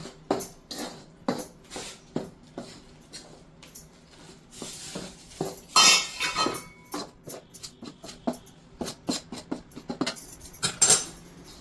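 Rice flour stirred into boiling water in a pot, heard as a rapid series of close scraping, tapping strokes of a utensil against the pot, with thicker bursts of mixing in the middle.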